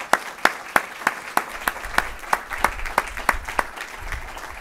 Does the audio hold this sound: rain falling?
no